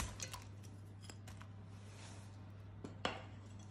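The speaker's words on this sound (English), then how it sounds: "We're going to mix that round" Nuts, fruit, almonds and dates being stirred together in a bowl for healthy flapjack bars, faint scraping and light clinks of spoon against bowl over a steady low hum, a sharper knock near the end.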